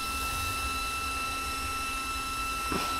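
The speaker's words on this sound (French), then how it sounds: "ce que vous entendez c'est le ventilateur ultra méga fixe" The cooling fan of a switched-off Losi 5ive 12S RC vehicle runs with a constant airy whir and a faint steady hum, unchanging throughout, with a small knock near the end.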